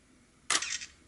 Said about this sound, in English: you gotta remember the first one actually will flip the mirror up. Your second shot will actually go ahead and take the picture.